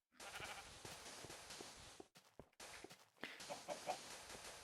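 A chicken in Minecraft clucks in short, faint, scratchy bursts over a low background hiss, with a brief pause midway before the clucking resumes.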